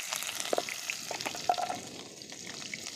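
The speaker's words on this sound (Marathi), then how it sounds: "हा चांगलं गरम झालंय एक चमचा भर मोहरी टाकली जिरे" Mustard seeds, cumin and chillies frying in hot oil give a continuous crackling sizzle with scattered small pops and a spoon clink, close and moderately loud, with no voices.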